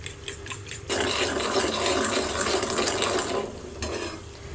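Two eggs beaten in a bowl for caramel pudding, a steady, close scraping whisk that runs continuously for several seconds before stopping near the end, with no talking.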